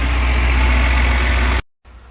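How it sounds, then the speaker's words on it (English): Loud, close engine rumble of a passing tractor with heavy low-frequency drone, cutting off abruptly to silence, then a faint hiss returns, heard outdoors beside a potted ginkgo bonsai being tended. "there's a tractor coming"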